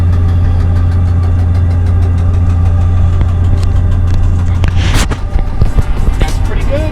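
A Kia Tasman engine holds a steady low drone in fifth gear while towing a heavy load, a constant close hum with a brief louder rush near the end and faint talk underneath.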